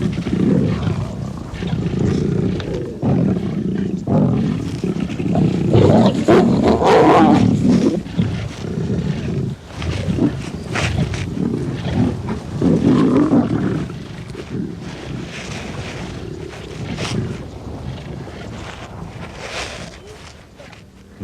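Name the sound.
lions roaring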